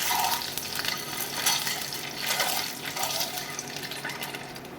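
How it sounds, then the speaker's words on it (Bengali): Eggs frying in cooking oil until reddish-brown, a close bubbling sizzle with watery, gurgling surges rising and falling, no voices. "আমি ডিমগুলো ভেজে নেব। লাল লাল করে আমি ভেজে নেব।"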